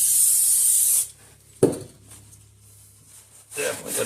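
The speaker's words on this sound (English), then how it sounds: "Let me go get some rags and some brake clean. I'll clean up that rotor." Brake cleaner sprays in a loud, hissing burst onto a Jeep Grand Cherokee brake rotor. A clunk and quieter rubbing follow, then a second hiss of spray near the end.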